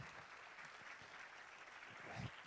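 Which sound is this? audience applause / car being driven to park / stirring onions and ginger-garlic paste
audience applause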